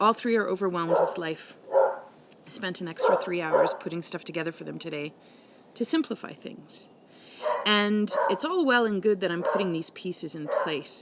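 A pet dog barks and yips indoors in a home office, short sharp barks breaking through a steady stream of close speech.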